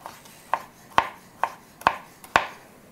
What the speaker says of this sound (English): just slice them into little 1/4 inch pieces